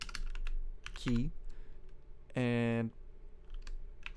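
Keys on a computer keyboard are tapped in scattered clicks while a voice speaks briefly between them.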